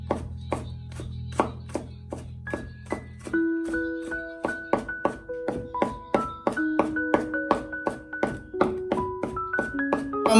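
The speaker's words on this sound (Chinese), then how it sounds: "直接给它剁成蒜末" A kitchen knife minces garlic cloves on a cutting board in a fast, steady run of sharp chops, close and clear, with soft background music entering partway through.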